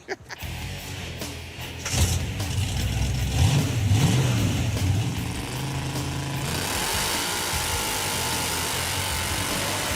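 A Hemi-powered Gremlin body on a Model A chassis revs hard, its loud engine surging and climbing in pitch through repeated bursts before settling into a sustained high-speed roar.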